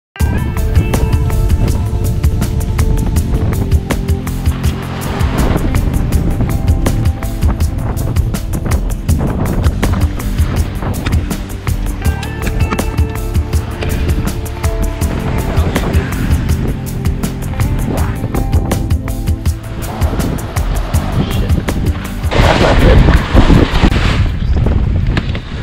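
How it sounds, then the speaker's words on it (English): Gale-force wind on a sailboat at sea, a constant loud roar with buffeting gusts, rattling and rushing water lasting throughout, with no voices. "It's a windy trip, I guess."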